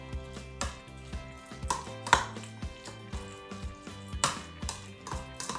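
Food is mixed with hot sauce in a bowl, with irregular clinks and scraping taps of a utensil against the bowl, close and quiet with no talking.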